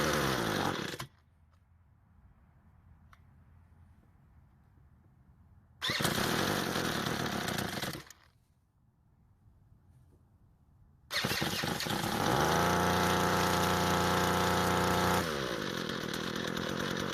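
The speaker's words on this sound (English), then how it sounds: "Let's try restarting the engine again to make sure that everything works like it's supposed to" A small Ryobi gas engine with an electric starter cranks and fires in loud bursts, dies back to quiet, then catches and runs steadily at a high, buzzing idle before its pitch drops.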